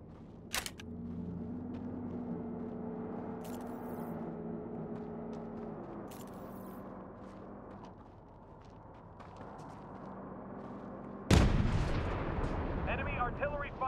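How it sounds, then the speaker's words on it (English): Enemy artillery fire in the video game World War 3, heavy booming blasts over a steady rumbling battlefield, ending in a sudden loud close impact followed by crackling debris; a voice speaks over parts of it. "Enemy artillery fire incoming."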